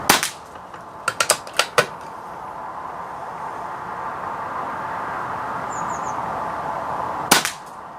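A BSA air rifle fires a BSA target pellet at short to medium range, giving a sharp nearby crack at the start, then a quick burst of clicks and another crack near the end over steady outdoor background noise.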